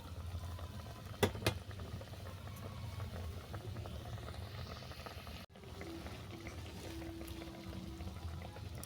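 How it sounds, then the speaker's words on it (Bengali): A pot of hilsa fish sour curry with ol stalks and mango simmers and bubbles steadily, a soft continuous boiling hiss with a couple of brief sharper knocks near the start. "এইভাবে দু মিনিট ফুটতে থাক"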